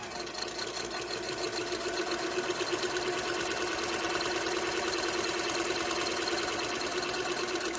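A motorized Singer 27 sewing machine runs continuously at steady speed, a close, even mechanical whir with rapid rhythmic clatter and no talking.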